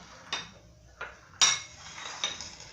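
A bowl taken out in a home kitchen to hold washed chicken for a chicken and vegetable tagine: four light clinks and knocks of dishware at uneven intervals, quiet and close, with the third strike loudest.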